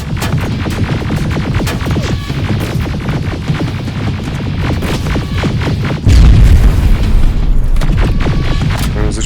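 Enemy gunfire and explosions in the shooter game Terminator: Resistance: rapid, continuous loud shots with a deep booming blast partway through, dense and close throughout.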